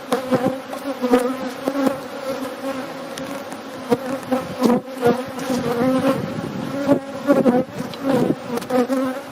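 Honey bees building comb inside a top bar hive buzz steadily up close, a dense hum with individual insects droning past, no voices.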